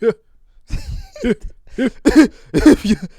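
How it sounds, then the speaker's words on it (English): A man forces out a series of pretend coughs, five or six short, loud, close-up bursts in an uneven rhythm with brief pauses between them and a laughing edge to some of them. "Sound like you coughing for real."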